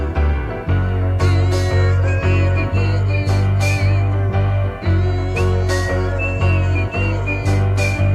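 A melodic whistled line runs over a full, steady band arrangement, bright and sustained, sitting high above the bass and drums throughout.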